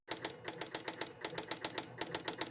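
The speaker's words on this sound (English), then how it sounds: "Looks like the F relay is clicking repeatedly." Sharp mechanical clicks from a relay in the back box of a Spirit of 76 pinball machine, firing in rapid, fairly even bursts of about a dozen, close and crisp with short pauses between groups.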